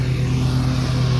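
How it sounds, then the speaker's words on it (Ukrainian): A lawnmower engine drones steadily in a Ukrainian village, loud and unbroken for the brief moment, with no voices over it. "Газонокосарка, це газонокосарка."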